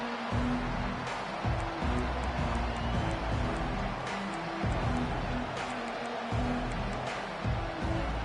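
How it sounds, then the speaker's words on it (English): A large football stadium crowd roars steadily in a continuous wash of noise, with a commentator's voice speaking faintly underneath. "This crowd bringing the energy and noise early."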